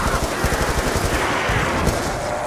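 A Tommy gun in Call of Duty Zombies fires continuously in a dense, rapid rattle, loud and close, with a brief break and then more sustained firing.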